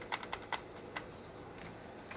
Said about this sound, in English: clicking the power on button